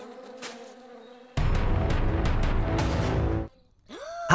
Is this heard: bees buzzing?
yes